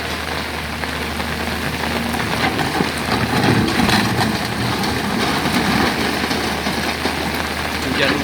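Rain falls steadily during the demolition of an illegal shack beside a landfill, a dense, even hiss that runs throughout with a low engine hum underneath and faint voices mixed in.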